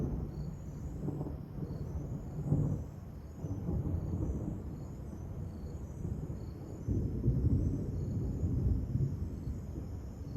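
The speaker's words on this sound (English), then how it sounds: "This is so unusual to have a thunderstorm in summer, but it's so peaceful." A summer thunderstorm in Panama rumbles low and steady with rolling thunder swelling and fading, while a thin high insect or cricket chirr runs continuously above it.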